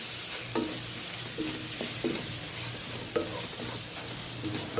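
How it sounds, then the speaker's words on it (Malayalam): Spice powders and pepper are stirred in a pan for a Kerala chicken curry, a steady sizzle with soft repeated scrapes of a spoon, close and without talk. "ഈ പൊടികളെല്ലാം കൂടിയിട്ട് നമ്മളൊന്ന് നന്നായിട്ട് ഇതിനോടൊന്ന് മിക്സ് ചെയ്തെടുക്കുക"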